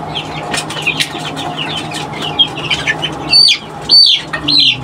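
Chickens in a coop cluck and flap their wings, with short bursts of wingbeats and high chirps over a steady background hum.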